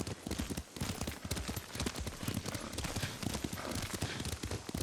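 Horse hooves clip-clop in a quick, steady gallop rhythm as a rider travels in Ghost of Tsushima, loud and close with faint game ambience beneath.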